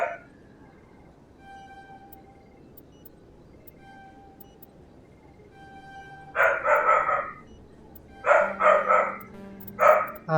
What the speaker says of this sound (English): Since the dog is acting up